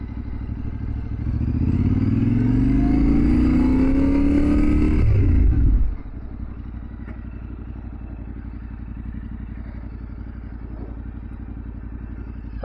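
A Yamaha Ténéré 700 motorcycle ridden at slow speed, the engine rising and pulling up close for several seconds, then dropping to a low steady rumble as the bike putters along.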